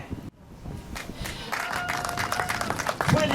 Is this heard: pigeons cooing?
no